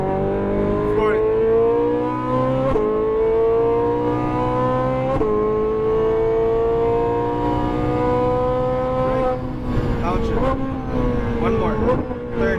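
Ferrari 458 Italia accelerating hard on a race track, its engine note climbing in steady rising sweeps with sharp upshifts, loud and close throughout while an instructor talks over it.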